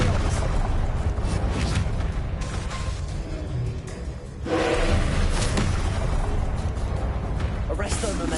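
Confringo and Glacius spells blast during Hogwarts Legacy combat, with a sharp burst midway among dense, layered game effects and music, while voices are heard throughout.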